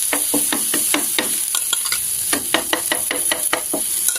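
Pumpkin flatbread (bhakri) fries in oil on a pan, a soft sizzle broken by a quick series of close, regular taps and scrapes, with no voices.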